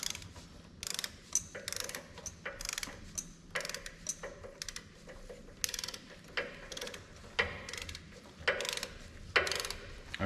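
A 10 mm ratchet tightening suspension bolts during an air ride suspension install, clicking in repeated short bursts of pawl ticks, close and fairly loud, with brief pauses between strokes.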